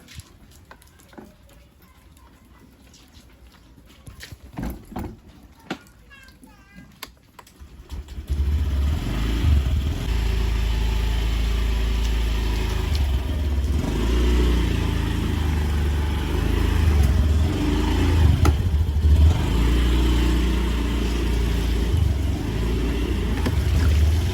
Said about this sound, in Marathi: आपण काढतोय बाईक आणि आपण निघतोय फिरायला.